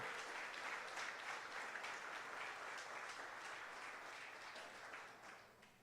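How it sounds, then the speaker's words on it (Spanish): A congregation in a church service claps for several seconds, a dense and steady wash of applause heard at a distance that fades slightly toward the end. "Puedes darle un aplauso al Señor si te sientes bendecido."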